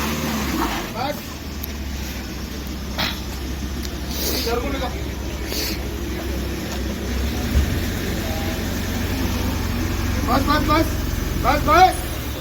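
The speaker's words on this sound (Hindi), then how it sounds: "गाड़ी स्किल्ड हो रही है पूरी।" A car skids and spins its wheels in heavy snow, its engine droning low and steady throughout, while several people talk nearby.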